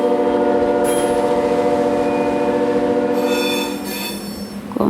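An ore-laden freight train near Divinópolis, Brazil rolls past with loud, continuous wheel squeal and a steady horn-like drone, sustained for several seconds and easing slightly toward the end.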